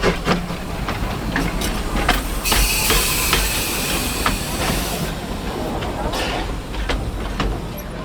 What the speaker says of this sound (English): it was time for the visitor train to come around again, pulled by number